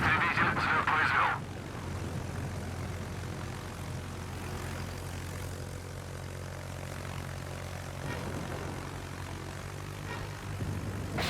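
Fighter aircraft lifting off from the Soviet carrier Admiral Nakhimov in World of Warships, a steady propeller engine drone that holds through the whole stretch after a brief burst of higher noise at the start.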